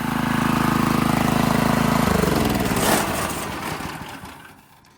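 A Honda GX160 engine runs steadily on a Workman 2 multimixer, a loud, even mechanical drone that shifts pitch around the two-second mark as the throttle eases down, then fades lower toward the end.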